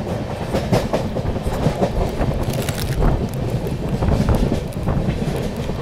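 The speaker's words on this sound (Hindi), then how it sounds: "री ओवरटेकिंग तेजस एक्सप्रेस" The 22361 Patna–New Delhi Amrit Bharat Express rolls at speed while overtaking a Tejas Express, a loud, continuous rumble with clickety-clack of wheels over rail joints and wind rush, heard from on board.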